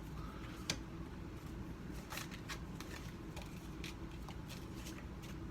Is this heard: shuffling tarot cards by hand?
yes